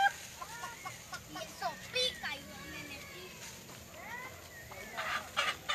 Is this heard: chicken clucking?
yes